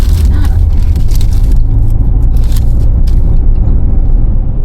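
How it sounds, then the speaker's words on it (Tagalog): Steady, loud low-frequency rumble of road traffic heard from inside a moving car, with engine and tyre noise continuous throughout and a few faint scraping or ticking sounds on top. "So traffic!"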